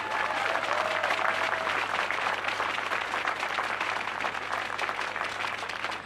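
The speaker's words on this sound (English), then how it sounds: "let's give a big round of applause to all the Barebow competitors from this weekend" An audience at an archery tournament final applauds the Barebow competitors, a steady wash of clapping that stays even and fairly distant for the whole stretch.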